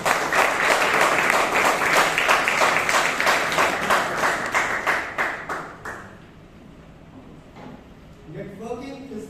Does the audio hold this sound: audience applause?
yes